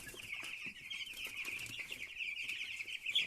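Cobb 500 broiler chickens in a poultry house, a steady high chorus of peeping and cheeping over soft pecking and scratching, with occasional wing flaps.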